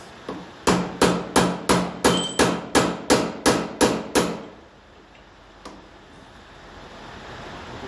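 A hammer drives a chisel on a Massey Ferguson 35 tractor part: eleven loud, evenly spaced metallic blows in a quick run, followed by one fainter tap and a quiet background.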